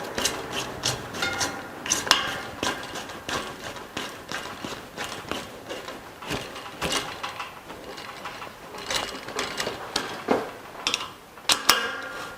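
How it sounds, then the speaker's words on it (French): Metal-on-metal ticks and clicks of a 5 mm Allen key tightening the caliper mounting screws on an electric bike's brakes, irregular close taps and ratcheting scrapes at moderate level, no talk. "on va serrer à fond avec la clé Allen de 5"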